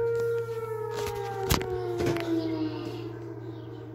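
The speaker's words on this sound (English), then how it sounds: "there's sirens going off in the hospital" A hospital siren wails, rising and falling steadily in the background, with a couple of sharp knocks and faint voices nearby.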